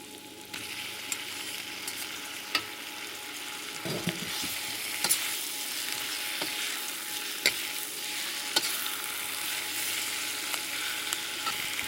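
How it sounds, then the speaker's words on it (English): Bok choy and pork sizzle steadily in a hot stir-fry pan, a loud continuous frying hiss broken by occasional clinks of a utensil stirring. "now we're gonna ready to put the pak choy in it"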